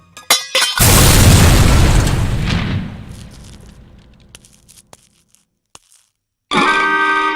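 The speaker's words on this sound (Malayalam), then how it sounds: "അയ്യോ, ബോംബ്." A comedy film scene bomb explosion: a loud, sudden boom that roars for about two seconds and then decays into a long rumbling tail, followed by a few small pops and crackles and a burst of noise at the end.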